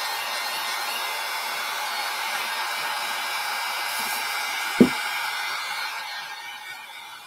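A handheld hair dryer blows steadily to quick-dry a fresh coat of Fusion milk paint, a continuous close whoosh running alone with one brief knock partway through before it begins to fade.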